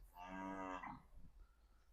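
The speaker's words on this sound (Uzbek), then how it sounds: "Sigir ma'rayapti orqada." At a cattle market with bulls, a cow in the background gives one drawn-out moo that lasts about a second and then fades into quiet surroundings.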